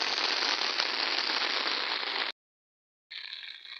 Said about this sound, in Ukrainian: Тим більше зараз падає дощ